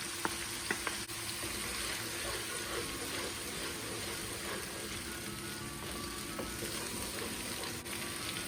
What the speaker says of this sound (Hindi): अब हम इसके अंदर प्याज की पेस्ट ऐड कर देंगे।